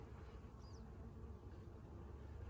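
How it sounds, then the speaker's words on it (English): Honey bees around an open hive during an inspection, a faint, steady low buzz droning without a break across the whole moment. "Trying very hard not to squish any bees here."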